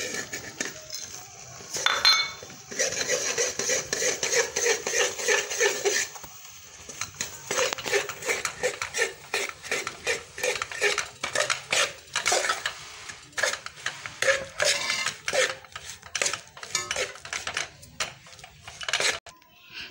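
A spoon scrapes and clinks steadily in a frying pan as semolina and almonds are stirred together, metallic taps coming in quick irregular bursts, with a voice talking faintly underneath.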